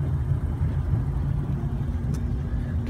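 A Tahoe Q5 boat with a 4.3 Mercury fuel-injected MPI engine during a run-up, producing a steady, close, loud low rumble that holds constant throughout.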